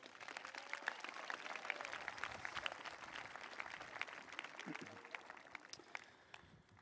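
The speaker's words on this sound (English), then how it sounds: "Let's have another round of applause for our choir." An audience at a high school graduation ceremony applauds the school choir, a faint, steady patter of many hands clapping that slowly thins out toward the end.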